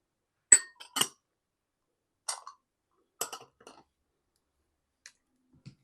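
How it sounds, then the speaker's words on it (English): Pink grapefruit wine must is stirred, heard as a few sparse clicks and clinks of a utensil against a glass vessel, scattered over a few seconds with silence between them. "So let's stir everything up."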